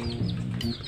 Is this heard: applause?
no